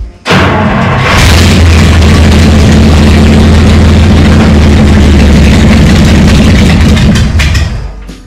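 A V12 engine in a rat rod cranks and catches with a deep boom, then settles into a loud, rumbling idle that holds steady close by before fading at the end.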